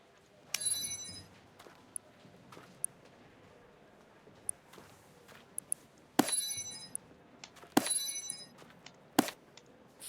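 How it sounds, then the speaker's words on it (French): Bell rings in the Star Stable Online horse game, a few bright metallic chimes with ringing overtones spaced irregularly, interspersed with short clinks, fairly close over low background. "as-tu entendu le premier son de cloche?"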